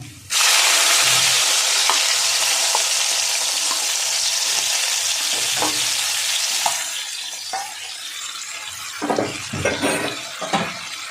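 Boiled taro stolons dropped into hot oil with black cumin in a pan, a sudden loud burst of frying hiss that stays strong and gradually eases, with occasional stirring clinks near the end.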